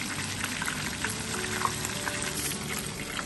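Beer-battered fish fillet deep frying in hot oil, a steady dense crackle and sizzle with small pops, close and continuous.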